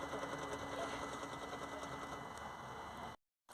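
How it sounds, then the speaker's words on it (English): The fuel pump on a smoke vaporizer in a workshop, a fast faint mechanical ticking under a steady hum, continuous until the sound cuts out near the end. "if we hear that little tick in there, we can hear the fuel pump on the vaporizer is working"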